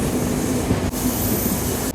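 An Intercity Express train on the Jaffna to Colombo line rumbles steadily as it curves around a bend, with a constant loud rolling roar and a faint wheel squeal, briefly dipping twice.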